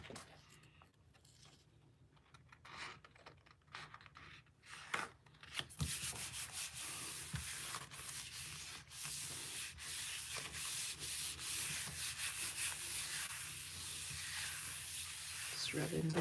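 Steady soft scraping and rubbing as a magazine transfer is worked onto a gel printing plate, a continuous dry friction hiss growing louder after a quieter start, with no talk over it.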